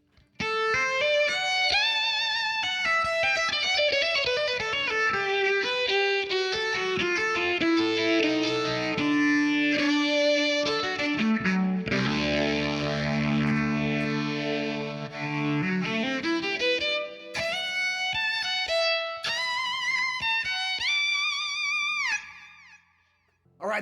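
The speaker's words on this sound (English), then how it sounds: "It's distorted, but it still sounds like a violin," Violin played through a heavily distorted Line 6 Helix amp preset, gliding and sliding between notes in a buzzy, saturated tone, with bowed phrases running continuously before a short break and a final flourish.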